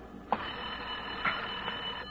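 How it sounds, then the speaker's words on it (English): In a radio drama, a telephone rings indoors in short bursts, three rings spaced across the moment over a steady background hum, fairly close and clear. "Oh, Lorna, there's a phone."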